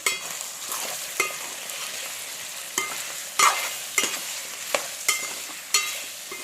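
Onions with turmeric fry in a pan for a mutton fry, a steady sizzling hiss broken by regular scraping stirs roughly every second. No one speaks.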